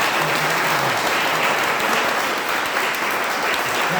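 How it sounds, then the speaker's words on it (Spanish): Audience applause inside the Museo Histórico Nacional, a sustained, loud wash of clapping from a crowd lasting several seconds without letup. "yo les voy a pedir un fuertísimo aplauso"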